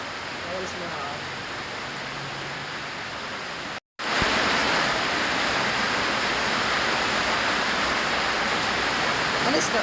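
Water runs and splashes in a steady broadband rush. It drops out for a moment, then returns slightly louder and keeps going.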